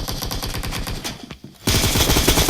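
Automatic gunfire in the mobile game PUBG Mobile: rapid, evenly spaced bursts of shots, loud and close, briefly pausing before a second burst.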